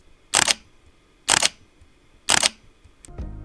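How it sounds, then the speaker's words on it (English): A Fujifilm X-T3 mirrorless camera fires its shutter at speed 30 three times, each a brief crisp mechanical snap roughly a second apart, close up in a quiet room, followed by a faint handling rustle at the end. "And this is the X-T3 at shutter speed 30."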